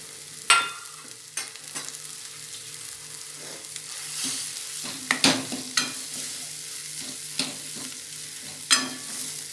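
Masala with crushed peanuts is stirred in a pan for stuffed brinjal, with a spoon scraping and clinking in irregular strokes over a faint steady sizzle, close up and without talking.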